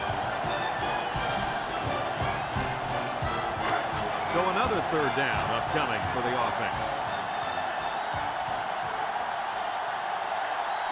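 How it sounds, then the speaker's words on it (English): Steady stadium crowd roar in the NCAA 06 college football video game, a West Virginia vs Florida matchup, a constant dense wash of noise that swells slightly midway, running beneath a play-by-play commentator's voice. "So this crowd is making their presence felt."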